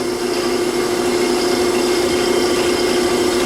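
A gouge cuts a rough bowl from wet wood on a wood lathe, making a loud, steady, continuous roar with a constant humming tone and no breaks.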